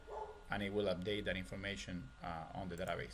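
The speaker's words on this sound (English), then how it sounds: "For some reason decided to bark right now." A dog barks several times in the background of an indoor room, short yapping bursts that overlap someone talking steadily in the foreground.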